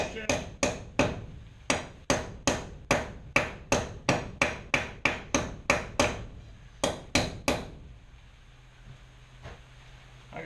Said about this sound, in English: we'll hammer out all the imperfections